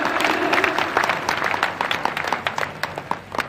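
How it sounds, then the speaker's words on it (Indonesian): A church congregation applauds in a dense, continuous patter of many hands, loud and close, with sharp individual claps standing out toward the end. "Tepuk tangan untuk kemuliaan Tuhan, bukan untuk saya, bukan untuk gereja."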